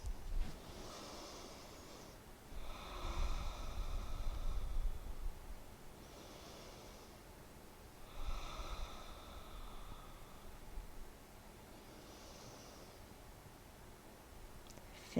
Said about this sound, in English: Breathe 3 breaths into your right thigh.